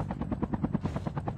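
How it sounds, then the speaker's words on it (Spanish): Helicopter rotor in Call of Duty Mobile, a fast rhythmic chopping thump repeating steadily and loudly, with no talk over it. "Vamos a dejar este helicóptero aquí."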